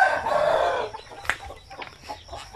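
Chickens inside their coop: a loud, drawn-out call at the start, then scattered softer clucks nearby.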